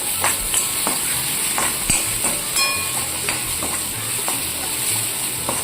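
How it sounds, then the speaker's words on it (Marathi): Onion roasts in a kadhai before any oil is added, making a close, even sizzling hiss throughout, punctuated by light scraping and clicking of a spoon stirring, with no one speaking. "इथे कढई घेतली आहे मी कांदा भाजायला टाकलेला आहे"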